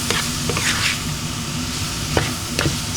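Ground beef and broccoli stirred in a hot frying pan, a steady loud sizzle with occasional scraping strokes of the utensil, close up and without voices.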